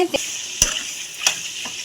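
Boti (goat tripe) frying in oil in a pan as it is stirred: a soft continuous sizzle with a few distinct spatula knocks against the pan, heard close.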